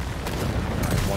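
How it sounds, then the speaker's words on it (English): Minigun fire in the Left 4 Dino video game, a brief dense burst of rapid gunfire that stays loud and continuous the whole time, with no talk over it. "I'm taking out the minigun, boys."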